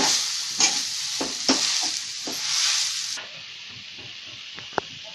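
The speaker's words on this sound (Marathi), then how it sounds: "तर हे जरा गूळ वितळेपर्यंत हलवत राहायचं सारखं।" Jaggery for a fresh coconut karanji filling sizzles in a pan while it is stirred with a few quick scraping strokes, then drops to a softer, steady hiss with an occasional tap.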